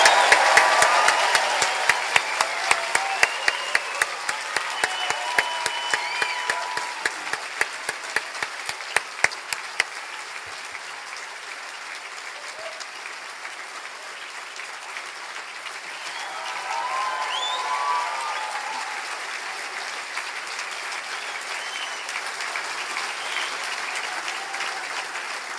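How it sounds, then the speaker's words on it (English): A large audience at a university graduation ceremony claps, cheers and whoops. The applause is dense and loud at first, eases into a softer sustained clapping, then swells again with more cheering near the end. "I'd like a lot of cheering, whooping, and a massive round of applause."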